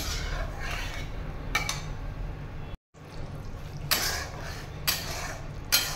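Pakora curry masala being sautéed in a pan with gram-flour water, heard as a spoon scraping and clinking against the metal pan over a soft wet bubbling. The sound is close and cuts out briefly midway, with no voices.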